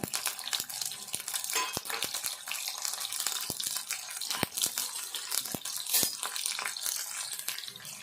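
Mustard seeds sizzling and popping in hot oil in a pan while dried fish curry is being made, a steady crackling hiss with scattered sharp pops throughout, close and fairly loud, no talking.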